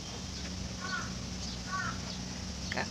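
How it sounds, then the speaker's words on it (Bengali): A crow gives two short caws, fairly faint and distant, on a still, sunny morning outdoors, over a low steady background hum. "কাক ডাকছে, আজকে বাতাস নাই।"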